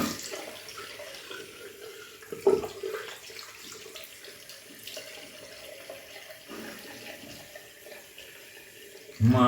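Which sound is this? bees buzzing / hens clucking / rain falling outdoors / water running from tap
water running from tap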